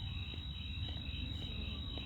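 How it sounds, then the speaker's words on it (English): Crickets or frogs chirp steadily at night under a full moon, a continuous high trilling bed over a low rumble of background noise, with no voices. "Is that frogs or crickets?"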